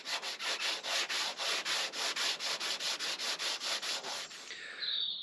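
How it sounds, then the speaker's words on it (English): Close, steady back-and-forth sanding strokes over filler on a Mercedes W124 body, an even rasping rhythm of about four strokes a second, with a brief higher scrape near the end and no voices. "And all these lines have to be sanded."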